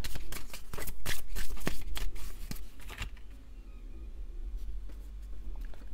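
Cards shuffled for a card reading: a close, loud, rapid riffling flutter for about three seconds, then stops, leaving faint rustling and background hum.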